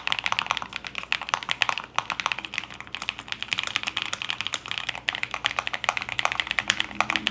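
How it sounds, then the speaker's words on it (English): Steady, fast typing on a NuPhy Air V3 mechanical keyboard with Red Nano switches, with dense, soft clacks running continuously at close range and no voices. "I'm only able to show you guys what the Red Nano switch sounds like"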